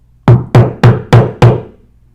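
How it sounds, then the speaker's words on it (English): Five loud, evenly spaced knocks rap on a front door in quick succession, each a sharp close thud with a short decay, no voices. "And so I'm knocking."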